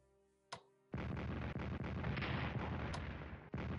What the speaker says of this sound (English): We have the artillery to do some real damage here.